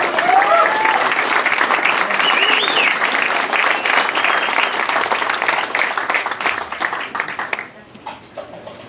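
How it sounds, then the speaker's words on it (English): A room of mourners at a wake for John Francis Nichols applauds the dinghy crew and organisers, dense steady clapping with a few voices and whoops over it, fading to scattered claps near the end. "I'd like to just quick round of applause for the dinghy crew and everyone for organising."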